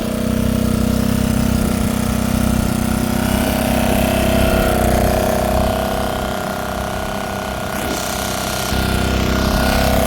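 A loud, steady engine drone from an engine-driven water pump, just repaired after breaking down, runs without pause, rough and mechanical, dipping a little toward the end before resuming its constant chugging.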